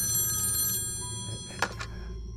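An old telephone bell rings in a silent apartment at night, a brief metallic trill over a steady low hum and faint background tones.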